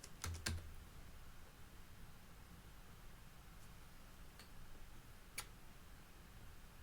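Quiet keystrokes on a computer keyboard while a typo is being corrected: a quick cluster of clicks at the start, then sparse isolated taps over a faint background hiss.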